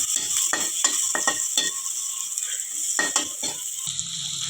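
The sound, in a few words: potato curry cooking in pan on medium flame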